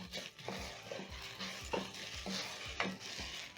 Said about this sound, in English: Stir in the salt as the rice is cooking.